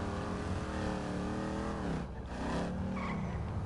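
A car in GTA Online accelerates hard with a revving engine while its tires squeal and skid, the engine pitch rising and dipping through the clip, loud and continuous with no talking.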